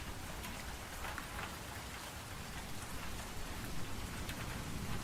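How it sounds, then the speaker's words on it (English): Heavy rain pours down steadily outdoors at night, a dense, even hiss of drops that never lets up, with no voices. "you're out by yourself outside of the Pizzaplex in the pouring rain"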